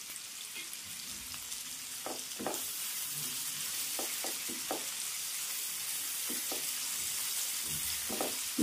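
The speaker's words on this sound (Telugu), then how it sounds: "ఉల్లిపాయలు కొంచెం ఎర్రగా అవ్వాలి, అప్పుడు దాకా వేయించుకోవాలి." Onions fry in a pan for a dhaba-style spinach chicken curry, a soft, even sizzle with scattered light pops and stirring taps, fairly close and unaccompanied by speech.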